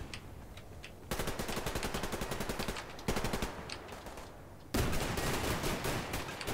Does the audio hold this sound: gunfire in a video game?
yes